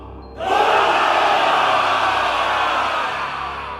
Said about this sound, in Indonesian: Sorakan dari ribuan pasukan langsung menggema dengan frekuensi yang tinggi